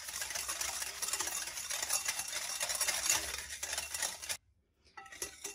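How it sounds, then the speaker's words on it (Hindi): A spoon stirs a sweet mixture in a bowl to dissolve sugar, giving steady close scraping and clinking against the bowl, then a brief pause before a few more light clinks. "इसको अच्छी तरह मिक्स करना है कि चीनी बिल्कुल बीच में घुल जाए।"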